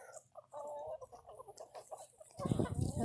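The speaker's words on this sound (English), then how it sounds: "see how the chickens did for us" Chickens cluck and murmur nearby in a low, busy chatter, followed by a louder burst of rustling and scuffling.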